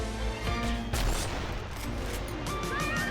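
Gunfire in the online shooter Sudden Attack 2: sharp bursts of shots with a heavy impact near the one-second mark, over a dense, continuous wash of battle noise throughout.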